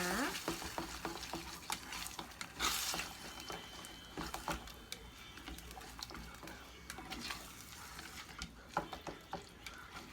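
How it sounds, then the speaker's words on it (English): A spoon stirs thick hotdog sauce with ketchup in a pot on the stove, making steady scraping and clicking against the pot under a continuous low sizzle for the whole stretch. "Give this a little more of a stir."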